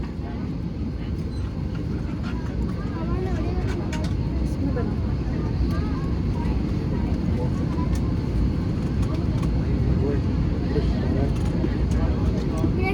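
Inside the cabin of an Airblue Airbus A321 airliner taking off from Karachi, a steady deep engine roar fills the space with a constant rushing hiss, while a voice talks over it.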